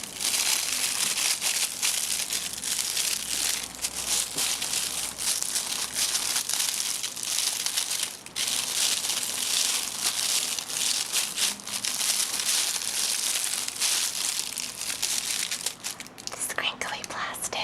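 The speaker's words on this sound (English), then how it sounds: "This crinkly plastic makes such a great noise." Crinkly plastic packaging from a Persona Q video game unboxing rustles and crackles continuously at close range, with soft whispering over the handling.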